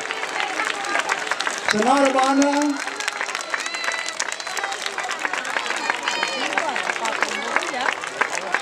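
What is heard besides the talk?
audience applause at a school farewell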